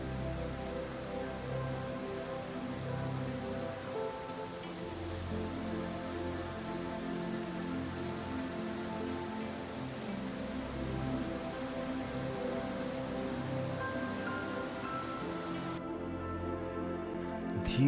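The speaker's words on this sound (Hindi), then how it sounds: "धीरे धीरे बारिश हो रही थी" Light rain falling near the hundred-metre Kyukhola waterfall on a cloudy mountain road, a soft continuous patter with a low, rushing wash underneath, steady and fairly faint throughout.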